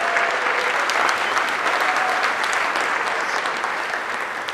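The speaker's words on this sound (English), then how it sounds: "give Nicole a big round of applause" An audience breaks into sustained, loud applause that fills the room evenly and tapers slightly toward the end.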